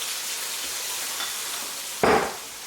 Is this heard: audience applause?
no